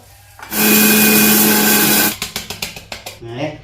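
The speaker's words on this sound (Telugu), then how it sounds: "మిక్సీ పట్టు" A kitchen mixer grinder whirs loudly at high speed for about a second and a half while grinding dry coconut masala for mutton curry, then pulses in short bursts, with a voice briefly at the end.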